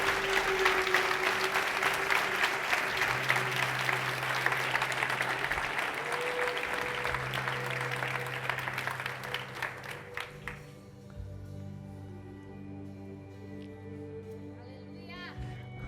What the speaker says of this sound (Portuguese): Então você pode dar uma salva de palmas a Jesus bem forte no seu lugar.